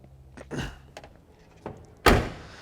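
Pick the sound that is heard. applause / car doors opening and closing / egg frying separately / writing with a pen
car doors opening and closing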